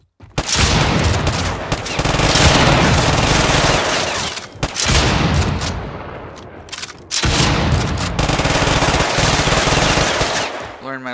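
Sustained, loud automatic fire from a video game gun meant to be a minigun. Long unbroken bursts are cut by brief pauses, with a faint voice barely audible underneath.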